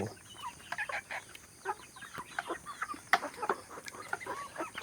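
Domestic backyard chickens from a flock of about forty in the rainy season, clucking softly and repeatedly in scattered bursts with no talk, quiet and somewhat distant.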